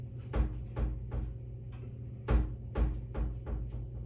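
A pet bangs on kitchen cabinet doors: a series of irregular hollow wooden thuds and knocks, some in quick pairs, fairly close, over a low steady hum and no talk.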